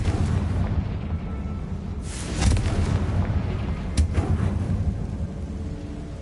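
A Confringo blasting spell goes off in Hogwarts Legacy, a broadband burst around two seconds in with a second sharp crack near four seconds, over a steady low rumble of game ambience.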